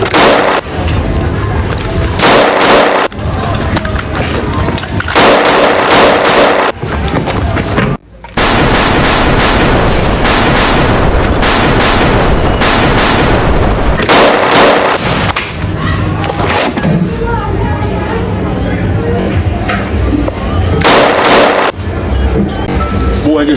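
Gunfire rattles through a scene in a Jamaican action drama, loud and continuous, with sharp repeated shots, brief pauses and booming bursts layered over a dense, harsh background.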